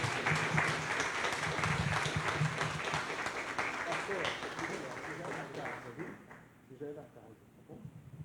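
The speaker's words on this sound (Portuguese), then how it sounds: "eu queria que vocês aplaudissem a Jesus para recebermos o nosso amigo pastor Guilherme" A church congregation applauds to welcome a pastor to the stage, dense sustained clapping from many hands filling the room, thinning toward the end as a voice begins over the tail.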